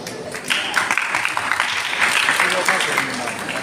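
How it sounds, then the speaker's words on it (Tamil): Renewed audience clapping swells after a brief lull and carries on as a continuous, fairly loud patter at a Tamil pattimandram debate on theism versus atheism, staged by students of a Vedic Shivagama school. "மறுபடியும் கரகோஷம்."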